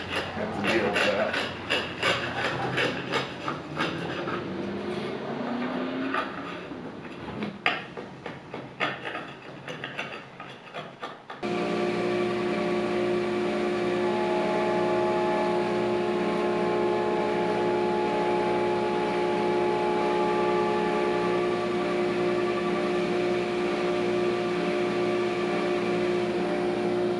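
A thickness planer runs wood boards through, first with clattering, rattling mechanical feeding noise, then a sudden shift into a loud, steady droning hum that continues to the end.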